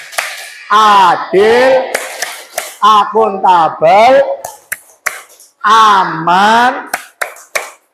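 Rhythmic clapping chant (Tepuk KKA) in a coding and AI teacher-training session, with sharp, loud claps and snaps punctuating a voice chanting words in time.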